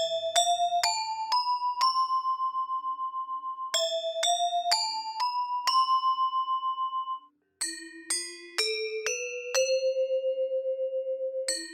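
Gamelan-like metallic tones ring out a five-note Slendro scale from Indonesia, climbing in repeated runs of bright, sustained bell strikes, each note ringing alone and clear with no voices.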